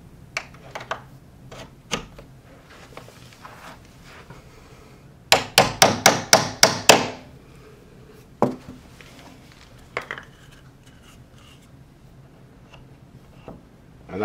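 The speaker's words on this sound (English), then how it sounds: "we're going to reinsert this pin into the hinge" A metal hinge pin is tapped back into a door hinge with a quick burst of about seven sharp hammer strikes, preceded and followed by scattered single taps and light handling knocks, close by with no talking.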